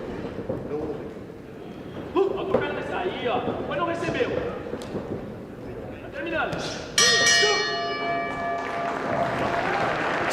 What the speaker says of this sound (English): Sweeping right hook by Oliveira just before the bell